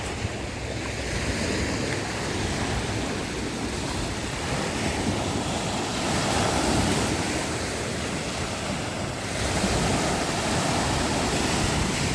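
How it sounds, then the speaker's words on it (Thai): Sea waves washing against the coast of Spain, a steady broadband rush with gentle surges and some wind buffeting, continuous and close with no voices. "ทะเลสเปน"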